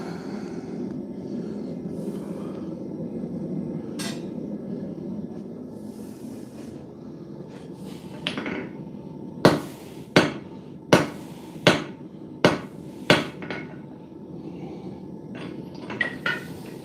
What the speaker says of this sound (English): No one swings a hammer like a farrier.